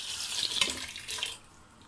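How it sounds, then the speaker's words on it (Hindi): Tap water runs steadily into a cooking pot for about a second and a half of a mutton ojri recipe, a close splashing rush that cuts off abruptly, leaving quiet. "अब इसमें हम पानी डालेंगे"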